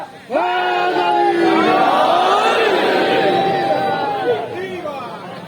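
At a Shia majlis in Imamia Colony, Shahdara, Lahore, a large crowd shouts religious slogans in unison, a loud, sudden roar of many voices that holds for several seconds and then fades.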